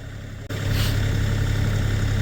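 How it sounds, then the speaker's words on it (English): A tractor engine idles steadily while running a compact homemade hydraulic skidding winch on a small limb, a continuous low rumble that steps up slightly after a brief dip near the start, with no talking. "just got the tractor on idle, and it's doing just fine for this small limb"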